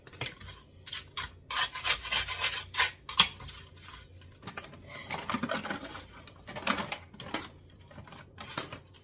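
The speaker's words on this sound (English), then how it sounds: "I'm using a knife to scrape it off." A knife scrapes freeze-dried banana brittle off a freeze dryer tray, giving close, crisp bursts of scraping and crunching in an irregular rhythm with short pauses between strokes.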